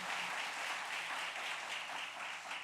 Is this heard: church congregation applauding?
yes